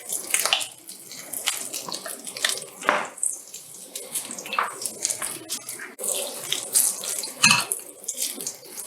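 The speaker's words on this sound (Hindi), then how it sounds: "अब इसमें डालते हैं हम आधा कप पानी।" Half a cup of water goes into a hot dhokla tempering of sizzling oil with chopped green chili, giving close, uneven splashing and bubbling bursts with sharp hissing spatters, a few seconds apart.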